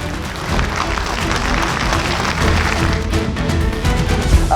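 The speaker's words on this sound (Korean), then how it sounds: "두 사람이 다시 악수를 나눌 땐 박수 소리가 커졌습니다" Applause fills the National Assembly chamber as the president and the opposition leader shake hands, a dense, steady clatter of many hands that holds at an even level throughout.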